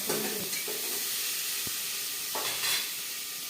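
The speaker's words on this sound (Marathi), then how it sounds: "चांगलं मटण परतून घ्यायचं ना कांद्यात." Mutton being sautéed with onions in a pot, a soft steady sizzle with scraping stir strokes near the start and again after the midpoint, close and moderately loud with no talk.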